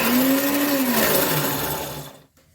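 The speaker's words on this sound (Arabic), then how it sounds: "وهبدا افرمه كده على الخلاط" A blender whirs loudly for a couple of seconds, its motor pitch wavering as it chops chocolate cake ingredients, then winds down and stops.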